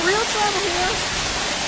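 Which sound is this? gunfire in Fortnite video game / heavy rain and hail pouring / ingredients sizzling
heavy rain and hail pouring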